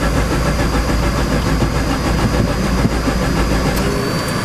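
A 1989 Alfa Romeo Spider engine cranking and sputtering as it tries to start, a loud continuous rough mechanical churn heard up close with no pauses.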